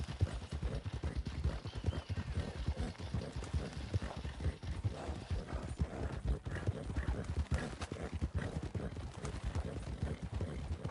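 Horse hooves clip-clop at a steady trotting rhythm while riding in the video game Red Dead Redemption 2, continuous close hoofbeats with faint tack and ambient noise, a voice talking now and then underneath.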